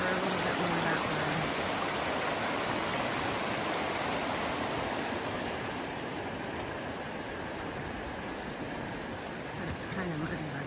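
River water flowing steadily in a muddy, rushing stream, a continuous broadband wash that stays loud and even throughout.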